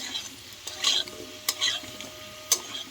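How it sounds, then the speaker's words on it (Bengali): Potatoes fried until red in a pan, quiet sizzle under a few sharp spatula scrapes and clinks against the metal, three or four distinct stirring strokes, no talking. "লাল লাল করে আলু ভাজা কমপ্লিট হয়ে গেছে"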